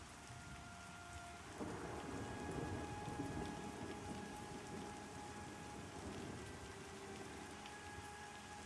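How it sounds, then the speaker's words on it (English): Steady rain with rolling thunder in the fantasy online game Pantheon: Rise of the Fallen, a dense continuous downpour that swells with a low rumble after the first couple of seconds and keeps going with no talk. "when you go into the houses, the rain makes a sound like it's hitting an actual house"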